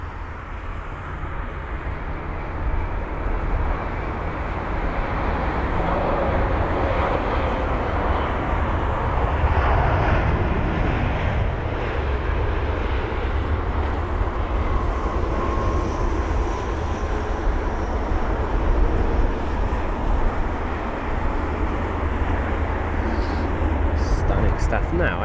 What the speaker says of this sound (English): another arrival, and that's going to be the Boeing 787-8 Dreamliner from Portland